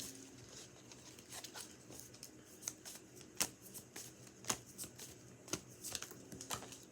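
Tarot cards being shuffled by hand to draw a card, a quiet series of soft riffling snaps and flicks at an irregular rhythm, close and alone.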